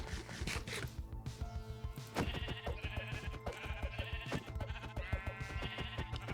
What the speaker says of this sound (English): let me get rid of these sheep